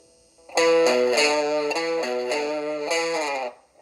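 A distorted electric guitar plays a chugging riff of repeated chords from a song, loud and close, stepping between a few positions before stopping.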